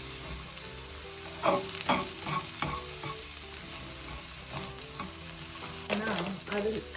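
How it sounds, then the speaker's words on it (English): A vegan wrap filling is stirred around a hot pan, with a continuous low sizzle broken by scraping spoon strokes at irregular intervals, close and fairly loud under a constant musical background. "keep like stirring it, guys, because to avoid this sticking"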